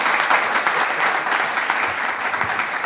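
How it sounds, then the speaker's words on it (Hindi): An audience at a talk claps together, a dense steady burst of applause filling the whole short stretch. "नहीं ताली नहीं बजाते हैं क्या?"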